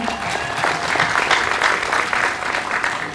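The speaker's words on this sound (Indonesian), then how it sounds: "Tepuk tangan buat kita semua." Steady applause from an audience at a Hindu dharma wacana talk, a dense wash of many hands clapping continuously and fairly loud for a few seconds with no voice over it.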